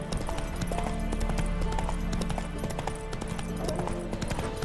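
A horse gallops in The Witcher 3: Wild Hunt, quick rhythmic hoofbeats pounding steadily up close over a low ambient game soundscape, with a brief voice line under the hooves.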